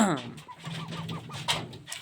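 A bantam or Cochin rooster gives a quick series of about five soft clucks, fairly close, at night in a poultry house, with faint background noise around it.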